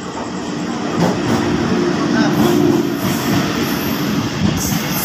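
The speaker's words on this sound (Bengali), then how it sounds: "আর এই যে ট্রেনটা ঢুকে গেছে" Train pulling into Shibaichandi railway station, a steady rumbling roar with faint squeal of wheels, heard amid open outdoor noise and some talk.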